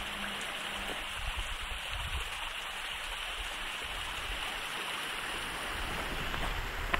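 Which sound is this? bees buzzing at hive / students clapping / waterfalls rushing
waterfalls rushing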